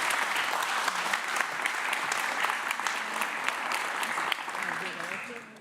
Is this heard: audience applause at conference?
yes